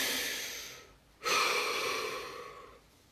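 A single deep breath during a guided session, drawn in and then let out in a long, close, soft exhale with no talking.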